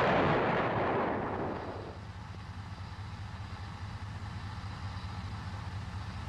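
An M551 Sheridan armored reconnaissance vehicle's main gun fires a single loud, booming round that rolls off into a long rumbling decay, leaving a steady low engine drone underneath.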